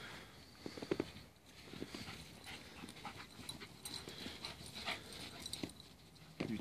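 An Alaskan Malamute puppy whines and whimpers in the snow, with soft panting, pattering paws and short high cries rising over a busy background.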